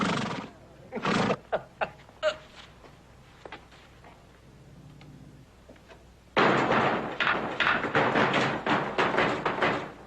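A horse whinnies in short bursts, goes quiet for a few seconds, then breaks into a long, loud, shaky neigh.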